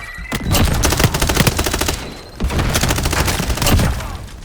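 Rapid automatic gunfire in Call of Duty Modern Warfare, two loud sustained bursts of dense shots separated by a short pause, close and dominant.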